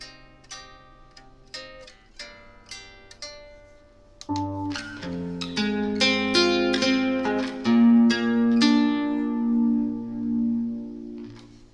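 Acoustic guitar played softly through a small Ortega acoustic amplifier, plucked single notes at first, then fuller strummed chords ringing out at low volume.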